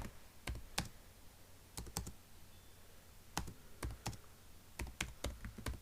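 Someone types on a computer keyboard while working in OpenOffice Writer: short clusters of crisp key clicks separated by pauses, close and fairly quiet, with no voice.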